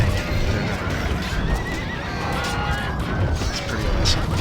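Cavalry clashing in a Rome: Total War multiplayer battle against cataphracts: a dense, continuous din of horses neighing and whinnying, hooves clopping and weapons smashing, loud and chaotic throughout.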